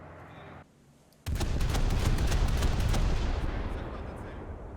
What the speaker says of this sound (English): on the back we got like a, you know, rapid fire twin guns